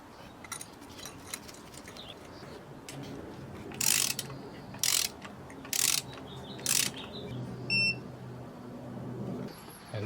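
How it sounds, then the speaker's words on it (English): A torque wrench ratchets on the spark plugs of a 2010-2015 Toyota Prius: five short, evenly spaced bursts of clicking stand out over a quiet, low background hum, with one small beep near the end. "So I have a little fancy torque wrench here."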